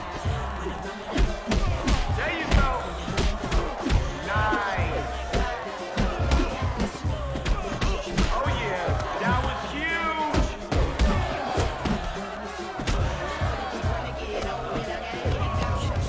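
Game crowd murmur from a wrestling arena in Def Jam Fight For NY, a steady wash of many voices chattering at once with occasional thumps and slams, continuous and fairly loud throughout.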